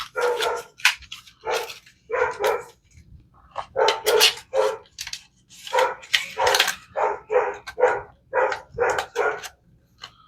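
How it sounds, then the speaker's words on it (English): A dog barks loudly and close by in repeated bursts of several barks, with short pauses between volleys and occasional softer yips, heard on its own without talk. "just ignore the dog"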